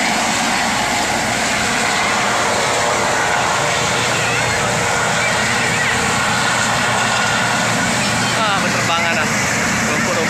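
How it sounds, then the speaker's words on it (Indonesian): A helicopter takes off at Palembang air base, giving a loud, dense, continuous engine and rotor roar that fills the whole stretch, with talk mixed in. "Teman-teman ya, helikopternya berangkat."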